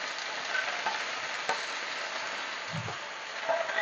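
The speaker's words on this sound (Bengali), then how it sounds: "আমি এখন শাক গুলো দিয়ে দিচ্ছি।" Malabar spinach greens hit a hot frying pan for a shrimp curry with sweet pumpkin, giving a steady, close hiss of sizzling oil with light stirring scrapes and a few soft thumps.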